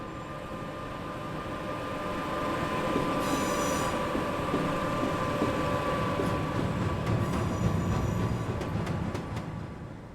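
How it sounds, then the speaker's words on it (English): A freight liner train hauled by Class 86 locomotives passes through the main platforms of Carlisle station, a steady rumble with squealing wheels and a low locomotive hum, growing gradually louder then easing at a moderate distance. "This is the evening Coatbridge to Tilbury liner, heading through Carlisle's main platforms."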